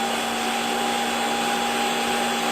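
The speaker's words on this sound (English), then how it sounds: "we've taken the fan right up to its maximum speed. So this is as noisy as the Hottop gets during roasting" A Hottop KN-8828P coffee roaster's fan runs at maximum speed during roasting, giving a steady, loud broadband whoosh with a constant mechanical hum throughout.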